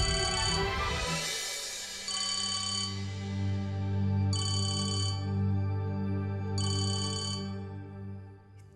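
A phone ringing late at night, a bright electronic ringtone repeating in regular bursts over a sustained melodic tone, fairly close and alone with no talking.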